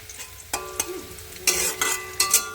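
Onions fry in a pan for Bengali egg curry, sizzling steadily with several sharp stirring scrapes close by.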